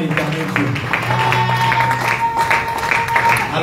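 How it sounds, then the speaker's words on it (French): A church congregation claps hands in praise, steady clapping under a busy mix of voices and music with a sustained tone running through. "pendant que tu es en train de battre les mains"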